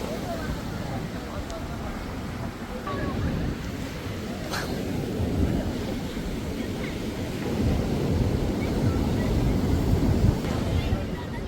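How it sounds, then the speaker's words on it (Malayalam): Rough sea surf pounding at Varkala on the Kerala coast, a dense low roar with rising and falling surges and wind buffeting the microphone, steady throughout. "കടൽ ഭയങ്കര മോശമാണ്"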